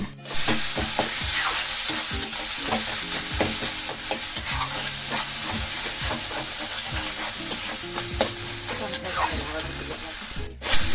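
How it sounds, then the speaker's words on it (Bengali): Spice paste fries in a pan for rui fish curry, giving a loud, continuous sizzle with repeated scraping and stirring strokes close by. "মশলাটা ভাজা হয়ে গেছে"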